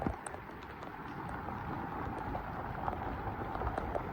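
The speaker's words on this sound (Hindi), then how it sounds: "बारिश हो रहा है" Heavy rainfall during a storm in the hills of Northeast India near Haflong Lake, a steady dense hiss of rain close by that continues without a break.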